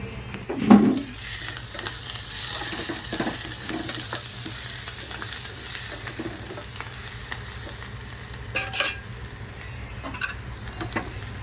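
Onions sizzle steadily in a hot pan while a spoon stirs and scrapes through them, with occasional brief clinks over the continuous frying hiss.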